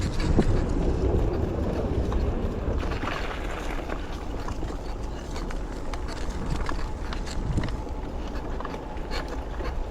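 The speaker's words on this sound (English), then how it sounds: "Here comes the train." A train passes nearby, a continuous broad rumble and rattle lasting about ten seconds, heard from outdoors with no talking.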